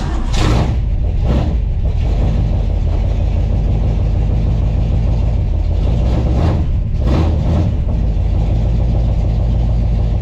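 A 454 engine in a race truck runs steadily through a test drive, a loud continuous low rumble with a couple of brief revving swells, close by and with no talk over it.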